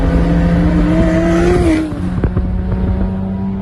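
Turbocharged BMW 335i accelerating hard on a quarter-mile drag run, its loud engine note climbing steadily through second gear before a sharp shift and renewed pull, with no talking.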